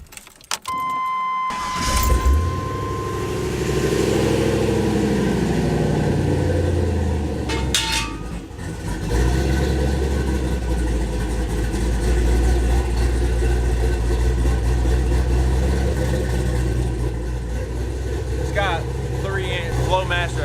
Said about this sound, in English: I'm gonna get y'all a cold start video